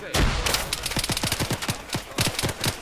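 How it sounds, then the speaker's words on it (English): Rapid bursts of video game gunfire from ArmA 3 crack repeatedly in quick succession, sharp and fairly close, with short pauses between volleys. "I'm gonna have these guys follow those gunshots."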